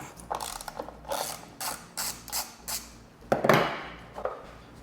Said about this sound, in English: Half-inch socket. We're going to crack this off, crack this one off.